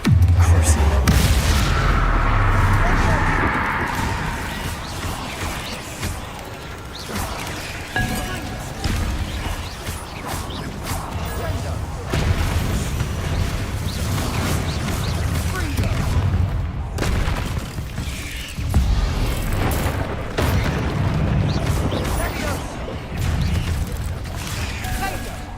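Confringo spell blasts in Hogwarts Legacy, repeated booming fiery explosions and crashing impacts scattered through a long stretch of combat, loud and close, mixed with clinks, whacks and spoken voices.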